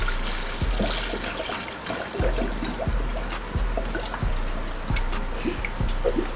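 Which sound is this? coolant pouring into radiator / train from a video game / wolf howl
coolant pouring into radiator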